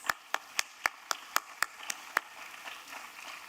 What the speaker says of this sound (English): Another round of applause for Anupa and Shanki